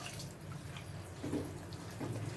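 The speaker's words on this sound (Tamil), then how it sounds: "நம்ம லைட்டாக மிக்சியை கழுவி வந்து நம்ம தண்ணி சேர்த்துக்கலாம்." Water runs steadily from a tap into a mixer jar while it is rinsed, a soft continuous splashing hiss at low volume with no talking.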